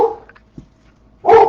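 A dog barks outdoors in a couple of loud, close bursts, with a faint yip in between, while work goes on out front.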